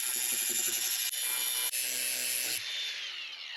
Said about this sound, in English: I'm just gonna cut the back side of these off,